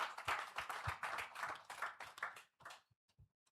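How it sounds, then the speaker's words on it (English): An audience at an annual general meeting of a professional institute claps in a dense, lively burst that thins to a few scattered claps and fades out near the end. "I think we have to clap for that."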